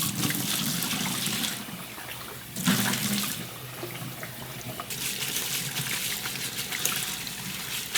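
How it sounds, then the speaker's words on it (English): Cold tap water runs over cooked glass noodles being rinsed in a sink, a continuous splashing hiss that surges and shifts as the noodles are moved under the stream. "So I'm going to rinse this in cold water."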